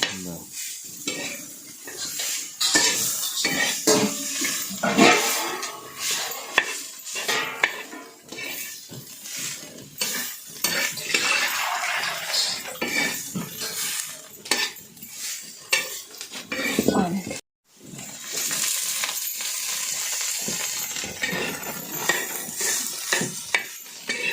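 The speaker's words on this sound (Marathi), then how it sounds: "मिक्स केलेली भाजी त्याच्यामध्ये परतून घ्यायची" Kurdu greens sautéed in a pan, with a spoon repeatedly scraping and clattering against the metal over a continuous sizzle, one brief pause, then steady frying again.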